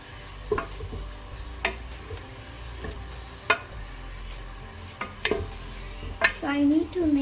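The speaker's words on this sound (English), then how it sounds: "So now you need to keep stirring it" A pizza sauce mixture with tomato ketchup stirred in a pan, a spoon tapping and scraping in irregular strokes over a low steady simmer, close by, with no talking.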